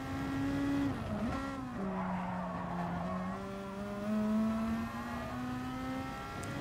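A race car engine in Gran Turismo Sport drones steadily through the final corners, its pitch dipping and climbing as it shifts, with tyre squeal blended underneath at a moderate, continuous level.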